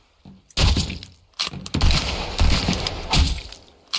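Gunfire in the pirate-survival video game Sunkenland: several loud, sharp shots and bursts, one near 0.6 s and others around 1.4, 1.8, 2.4 and 3.2 s, each with a ringing tail, and no talk over them.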